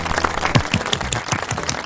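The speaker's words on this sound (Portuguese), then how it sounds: "uma salva de palmas pra gente" Scattered, uneven clapping from a small group in a casual podcast-style conversation, with individual claps standing out clearly and fairly close, lasting under two seconds.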